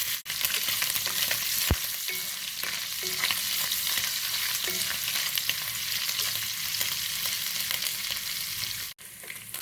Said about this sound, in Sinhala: තෙල් ටික රත් වෙනකොට හාල්මැස් ටිකක් දාගන්නවා.